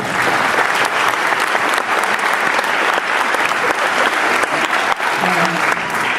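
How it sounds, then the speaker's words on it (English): An audience at a school spring concert gives loud, sustained applause, a dense wash of clapping that holds at full strength from start to finish. "so I'd like to give him a round of applause"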